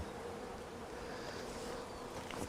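Honey bees hum in a continuous low drone as a frame is drawn out of a spring hive, a soft, even buzz of many insects close by with no pauses.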